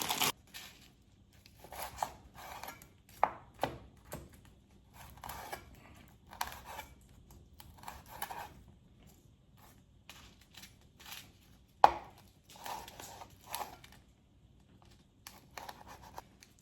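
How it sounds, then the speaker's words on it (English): A knife slices through dried chili on a cutting board in a series of quiet, crisp, irregular cuts and scrapes, spaced by brief pauses, heard close and alone. "I'm going to slice up some dried chili."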